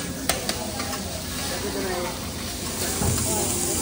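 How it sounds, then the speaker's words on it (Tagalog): Chahan fried rice sizzles loudly on a teppanyaki grill at close range, a dense steady hiss with spatula clicks and stirring, while people talk over it. "Cooking chahan rice."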